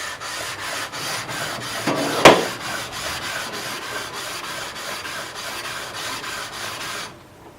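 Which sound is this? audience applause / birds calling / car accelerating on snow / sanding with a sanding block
sanding with a sanding block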